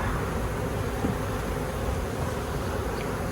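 A large swarm of honey bees buzzes in a dense, steady drone being moved into a new hive, close and constant throughout with no voices.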